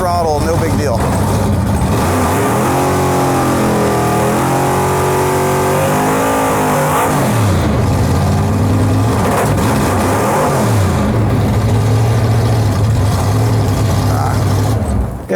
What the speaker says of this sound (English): we're slipping it under light power, light throttle, no big deal.